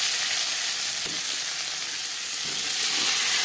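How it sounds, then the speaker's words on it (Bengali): Panch phoron and chopped onion fry in hot oil left over from frying fish, producing a dense, loud, unbroken sizzling hiss close by, with faint stirring underneath and no voices. "5 ফোড়ন ভেজে নেওয়ার পর দিয়ে দেবো পেঁয়াজ কুচি"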